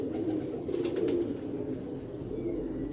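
Close, steady pigeon cooing, a low throaty rolling murmur that keeps going with slight swells in loudness.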